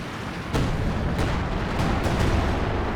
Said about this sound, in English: It's the officer artillery,